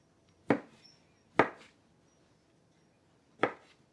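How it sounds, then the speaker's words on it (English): Knife chopping ham into cubes on a board: three sharp, separate cuts spaced unevenly over a few seconds, close and clear against a quiet background. "as I'm cutting up the ham"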